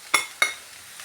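Two quick scraping strokes of a spoon through okra and roasted coconut in a pan, each a short sharp scrape followed by a light sizzle, close and alone.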